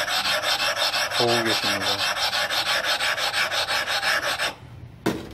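A knife-sharpening whetstone flattened by rubbing, giving loud close rhythmic back-and-forth scraping strokes that stop near the end, with a brief voice in the middle.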